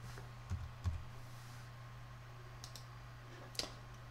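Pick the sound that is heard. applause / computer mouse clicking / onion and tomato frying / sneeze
computer mouse clicking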